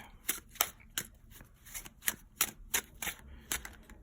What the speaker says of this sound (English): I'm going to shuffle these 3 decks